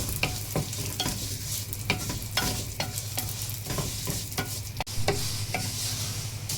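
Vermicelli being stirred and fried in a pot, with a steady sizzle under repeated scraping strokes of a utensil at an irregular rhythm, close and fairly loud, ending in a sharp knock near the end.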